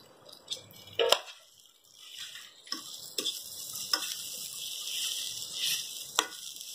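Boiled, chopped large potatoes tumble into a hot pan for aloo patties, landing with a sharp clatter and then sizzling steadily, with scattered stirring clicks and taps. No voices.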